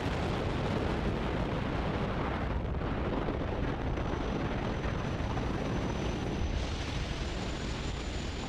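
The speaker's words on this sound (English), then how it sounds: "liftoff of Falcon 9" A SpaceX Falcon 9 rocket carrying the Eutelsat 36D satellite roars at liftoff, a dense, continuous rumbling wash of engine noise that stays loud and unbroken throughout.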